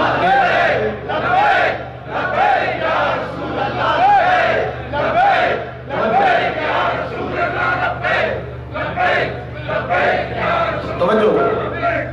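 A large crowd chants the Labbaik slogan in repeated rhythmic bursts, loud and sustained throughout, with voices rising together in a religious gathering.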